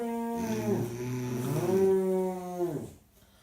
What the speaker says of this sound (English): That is snoring for a woman.